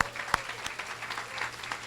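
Audience applause at a university event honoring students, alumni, faculty and staff, with a brief burst of steady clapping from a crowd, fairly close, with a voice heard faintly.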